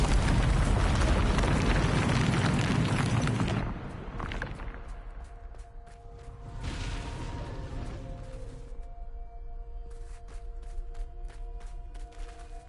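A Bombarda blasting spell in Hogwarts Legacy sets off a loud, sustained roaring explosion that fades into rumbling debris, followed by scattered crackles and thuds.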